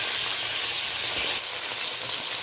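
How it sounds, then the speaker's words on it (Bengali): Hilsa fish heads frying in a pan, turned over for several minutes, give a steady, dense sizzle and crackle that holds at an even level throughout, with no voices. "ইলিশ মাছের মাথাগুলো খুব ভালো করে উল্টে পাল্টে আমি চার পাঁচ মিনিট ধরে ভেজে নেব"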